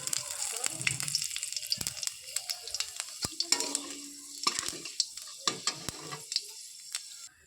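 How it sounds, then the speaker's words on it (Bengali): Panch phoron spices dropped into hot oil after frying lentil dumplings, crackling and sizzling in sharp bursts with scattered pops and spoon scrapes, close and fairly loud. "এবার এই তেলের মধ্যে দিয়ে দিলাম পাঁচফোড়ন।"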